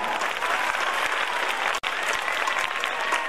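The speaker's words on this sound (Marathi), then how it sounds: "त्याबद्दल जोरदार टाळ्या." Applause from an audience at a school alumni gathering, given for a student who won third place: a dense, steady wash of many clapping hands that fills the space without a break, with one brief dropout near the middle.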